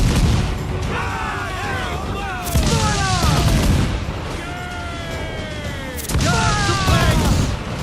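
Ship cannons firing in Assassin's Creed IV: Black Flag, heavy booms and blasts in bursts over a loud battle din, with shouting voices throughout.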